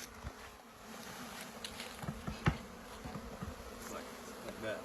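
Honeybees being introduced into a hive buzz in a dense, steady drone, close and low in level, with faint tapping and handling sounds scattered through it.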